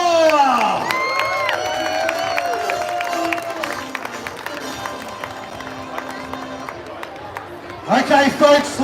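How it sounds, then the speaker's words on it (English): Crowd at a hot cross bun eating competition on the Northshore clapping and cheering, with shouting voices early on, a long murmur of applause, and a louder burst of cheers at the end. "Let's give a huge round of applause for Eat Street Northshore!"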